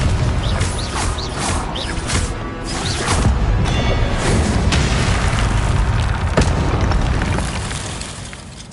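Spell blasts and booming explosions roll continuously in Hogwarts Legacy, a dense loud wash of impacts with whooshing magical chirps and a sharp crack partway through.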